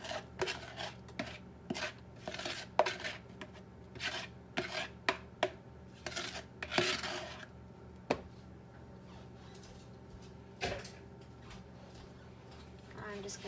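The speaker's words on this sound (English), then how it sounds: "I'm just gonna stir the heck out of it" A banana and sugar mixture for no-sugar-added chocolate chip banana bread is stirred hard, giving a string of uneven scraping, knocking strokes of a utensil against the bowl, close up and fairly quiet.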